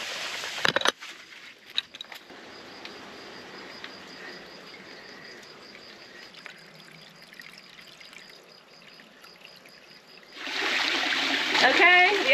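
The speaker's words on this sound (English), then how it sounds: "The water is flowing and the spring will slowly be draining." Spring water flowing through a pipe off grid in central Portugal, a faint steady trickle under a background insect hum that swells into a louder gush near the end, with brief knocks early on.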